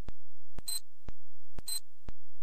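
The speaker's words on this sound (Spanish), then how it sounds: "¿Qué serán esos pitidos? Es una bomba de relojería que hay aquí encima de la mesa." Time bomb sitting on a table gives short, sharp electronic beeps at a steady rhythm about every half second, loud and close, each pair of beeps followed by a brief hiss, with no voices.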